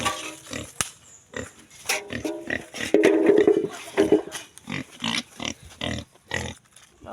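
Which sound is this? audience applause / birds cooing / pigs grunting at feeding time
pigs grunting at feeding time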